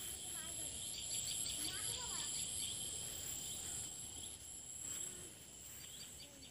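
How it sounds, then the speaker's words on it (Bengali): Crickets and other insects chirr steadily through the Jaldapara forest while small birds chirp and tweet intermittently nearby, all quiet and continuous with no voices. "পাখির কিচিরমিচির শোনা যাবে।"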